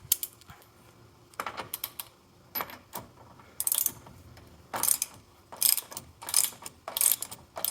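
A Stoltz bow roller on a boat is loosened by hand, giving repeated bursts of close ratcheting clicks, separated by short pauses, with no talk.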